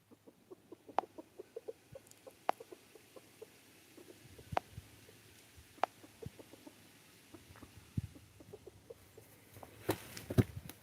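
A chicken clucks outdoors, with short, sharp clucks repeating at an irregular pace over faint background hum and a few louder bursts near the end.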